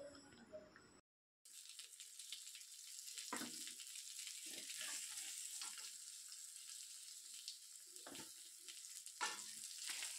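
Four fish heads fry together in hot oil for a Bengali muri ghonto dish, a steady close sizzle and hiss with occasional louder crackles and stirring scrapes after a brief gap at the start.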